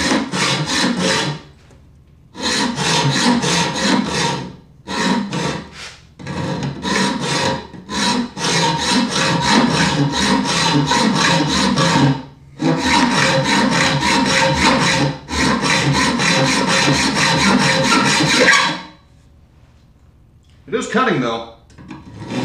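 Hand saw with a 24 teeth-per-inch blade cutting metal, loud rasping back-and-forth strokes in long rhythmic bursts separated by short pauses, close to the microphone.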